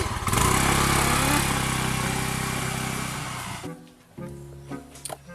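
A motorcycle engine runs steadily and close for several seconds at a loud, even drone, then cuts off abruptly, leaving a few quieter mechanical knocks and shuffles.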